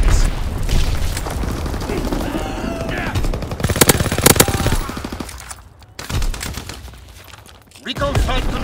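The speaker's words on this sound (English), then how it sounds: "Sending mortar rounds." Mortar rounds and gunfire in the World War II shooter Call of Duty: WWII, with rapid automatic fire and heavy booming impacts close and loud, then a brief lull before the barrage resumes; voices speak over the action.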